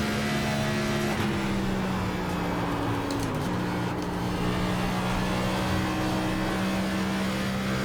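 A race car engine in the iRacing sim drones loudly and steadily at high revs, its pitch dipping briefly partway through before holding a sustained, buzzing note through the turn.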